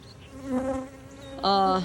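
Honey bees at a hive buzz close by in two droning passes, the second louder and steadier.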